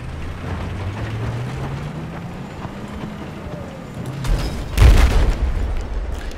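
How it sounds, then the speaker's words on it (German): In Battlefield 4 a tank cannon fires a loud booming shot near the end, after a stretch of engine rumble and battle noise. A voice talks underneath. "Ich hab dem ins Gesicht geschossen. Mit dem Panzer."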